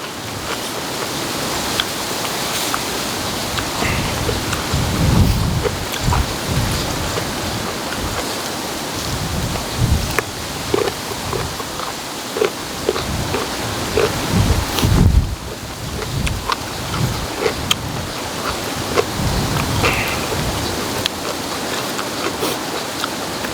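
Steady rain hisses in a dense, even wash, with gusty rumbles and occasional louder spatters, no voices.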